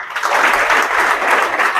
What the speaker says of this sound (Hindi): इनके लिए जोरदार एक बार और ताली